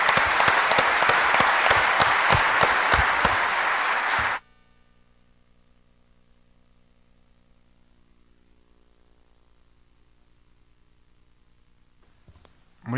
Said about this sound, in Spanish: los recibiremos con un buen aplauso a Jorge